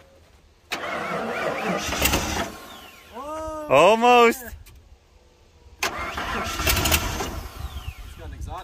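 An old bush truck engine cranks in two long grinding bursts, then turns over and catches with a rising, rough tone before settling. Voices talk briefly between attempts.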